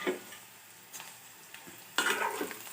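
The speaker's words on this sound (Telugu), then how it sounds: "చూడండి, పెద్దుల్లిపాయ, వెల్లుల్లిపాయ, పోపు దినుసులు అన్నీ బాగా వేగినాయి." Onions, garlic and tempering spices fry in a covered pan, a soft sizzle broken by a few clinks and stirring scrapes, with a louder burst of sizzling near the end, close and unaccompanied by speech.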